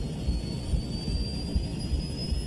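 Boeing 777 jet engines roaring at full thrust as the airliner accelerates down the runway on takeoff, a loud steady rumble with a thin high whine running through it, heard without talk.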